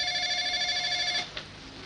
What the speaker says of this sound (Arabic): التليفون بو تليفون